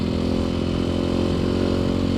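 A KTM 500 EXC-F motorcycle engine drones steadily while riding a dirt circuit, a close, constant rough hum with no clear revving changes and no talk.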